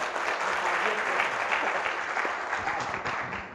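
An audience at a Gujarati poetry gathering in Godhra applauds a poet, dense sustained clapping throughout, close and even, fading slightly at the end.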